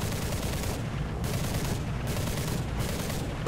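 Aircraft gun in War Thunder firing in repeated bursts, with sustained rattling gunfire broken by short gaps roughly every half second, loud and close throughout, no talk.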